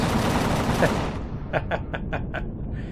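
Base turrets in Empyrion fire at predators: a rapid run of five sharp, evenly spaced shots after a noisy rumbling lead-in, moderately loud and somewhat distant.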